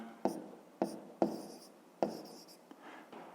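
Chalk or marker tapping and scraping on a board as numbers are written during a fifth-grade math lesson: several sharp strokes at irregular intervals, close and fairly quiet, with no speech over them.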